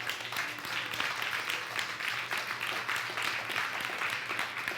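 A church congregation applauding during a worship service, with dense, continuous clapping that holds at a steady, moderate level throughout.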